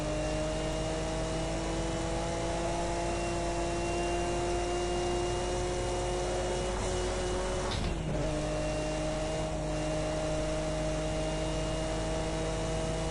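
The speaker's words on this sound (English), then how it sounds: "Sounds absolutely amazing, the raw turbo noise and the straight six engine in this thing." Nissan Skyline R34 GT-R with a turbocharged straight-six lapping the Nürburgring Nordschleife, a loud sustained engine tone with steady harmonics, briefly dipping around a shift before climbing again under wind and road noise.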